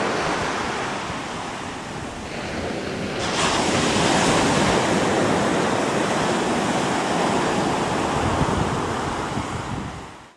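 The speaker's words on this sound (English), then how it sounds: "He likes the sound of the water." Water rushes in a steady broadband wash, like surf or a fast flow, that swells after a few seconds and then holds loud and continuous, close by, with no voices.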